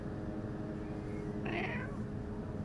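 A cat meows once at home, a short rising cry standing out over a steady low background hum, with no talk around it.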